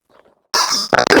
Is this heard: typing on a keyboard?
no